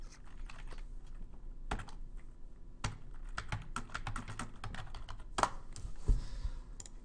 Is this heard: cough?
no